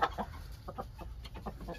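A black Polish Brahma hen, a breed that lays green eggs, clucks close by in a quick, irregular series of soft, short clucks.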